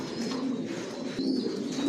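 Racing pigeons in a loft, including pairs sitting on eggs, give soft, low, continuous cooing that stays close and steady throughout the short stretch, with faint chirps above it.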